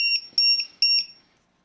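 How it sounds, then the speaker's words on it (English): A LiPo battery voltage alarm, connected to a cheap 2S-6S discharger, sounds a series of shrill electronic beeps once discharge is complete. Five rapid tones come in two bursts, then fall silent. "we will get a tone on this alarm. And there we go. Our discharge is done."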